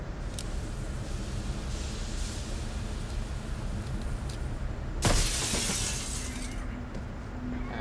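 Glass shatters loudly in Batman Arkham Origins, a single sharp crash with a brief tinkling tail, rising abruptly out of a steady background hiss.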